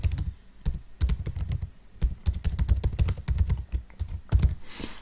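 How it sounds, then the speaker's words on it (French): Rapid clattering keystrokes on a computer keyboard as a web address is typed, with irregular close clicks and a few heavier key thumps throughout, no voices. "je tape le site de l'école ou une adresse URL"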